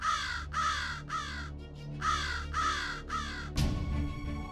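A crow caws repeatedly and loudly nearby, harsh rasping calls in two quick bursts of three with a short pause between, followed by a sharp thump.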